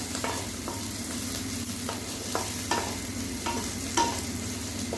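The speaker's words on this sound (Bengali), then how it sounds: "শামুকটা আমি অনেকক্ষণ থেকে ভাজছি" Snails fry in oil in a pan over low heat, a low steady sizzle broken by several distinct scraping clacks of a spatula stirring them at irregular intervals, close and with no talking.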